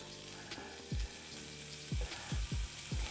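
Thawed vegan sausage frying in olive oil in a pan on medium heat, a soft continuous sizzle broken by several low thumping knocks and scrapes as it is moved about, close and without speech.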